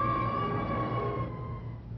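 A fire engine siren wails steadily and loudly, a sustained tone that holds for about two seconds before easing slightly, with no voices.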